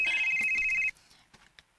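Cellphone ringtone sounding as a single clear electronic tone for just under a second, then cut off, followed by a few faint knocks in a quiet room.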